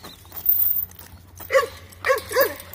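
A dog close by in a kennel yard, with short bursts of growling and snapping jaws in two quick clusters.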